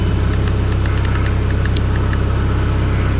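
A salvage Audi Q3 S-Line Quattro diesel idles steadily up close with a low, even thrum, while faint ticking sounds pop over the top.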